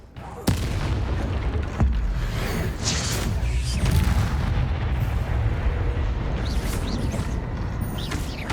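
A Bombarda blasting spell goes off in Hogwarts Legacy with a sudden loud boom, followed by a sustained, rumbling roar of debris and crackle that stays heavy for several seconds.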